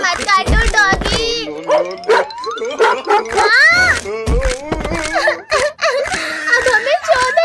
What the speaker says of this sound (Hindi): डॉगी भाई प्लीज हमें मत काटना, वरना हमें 14 इंजेक्शन लगेंगे। मत काटो डॉगी।